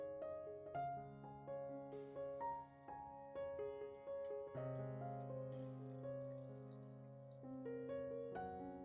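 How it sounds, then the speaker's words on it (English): Boiling water poured into a 700 ml glass jar while preserving tomatoes, a steady close pour whose ringing tone shifts as the jar fills, with no talking. "Then pour boiling water into the jar."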